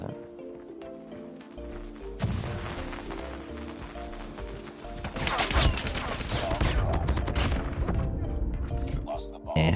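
Peacekeeper shotgun blasts in an online shooter match, sharp bursts of gunfire starting after a quiet opening, then a heavy cluster of booming shots and crashing impacts that dominates the second half.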